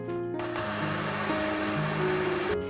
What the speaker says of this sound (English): So I'm going to try and grind some flaxseed.